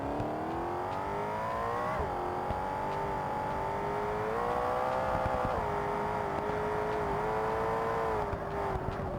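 BMW car with over 1,000 horsepower roaring in BeamNG Drive, a loud continuous engine and exhaust note that revs up, shifts with small drops in pitch and climbs again, no talk over it.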